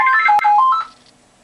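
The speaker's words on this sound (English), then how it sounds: "I've got a phone in my room, so that's why you heard it." A telephone in a room rings with a short, loud, close electronic melodic tone that cuts off abruptly into near silence.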